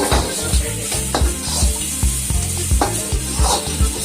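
Thinly sliced cabbage and carrots go into hot oil with onion and capsicum for egg Schezwan noodles. A loud, close sizzle runs under rhythmic scraping strokes from a stirring utensil, with no voices.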